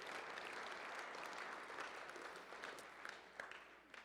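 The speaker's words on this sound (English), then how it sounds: "could we get a round of applause for Chloe for doing that?" Audience at a high school Christmas concert and fall awards banquet applauds a student, sustained even clapping from a large crowd that tapers slightly toward the end with a few louder claps.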